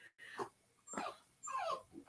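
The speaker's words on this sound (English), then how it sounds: "I hear a dog." A dog whimpers and whines in a few short, faint bursts with pauses between, fairly close but quiet.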